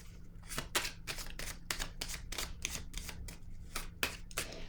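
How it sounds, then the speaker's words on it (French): A deck of cards is shuffled and a card drawn, producing a quick run of crisp riffling flutters and snaps, close and fairly quiet, with no talking. "piger une autre carte"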